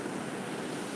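Ocean waves breaking at Newport Beach at high tide: a steady, broad wash of surf noise, moderately faint and unbroken, with no voices.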